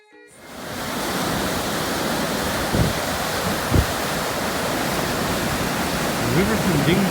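River flowing between Ding Boucher and Fan Boucher on the Everest Base Camp trek, a loud steady rush of water close by that holds constant throughout, with a couple of brief knocks and nothing else standing out.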